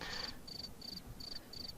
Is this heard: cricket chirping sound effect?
yes